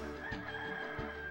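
A rooster character in the PS1 game 102 Dalmatians: Puppies to the Rescue gives a short crowing call, quiet and thin over a steady background game hum.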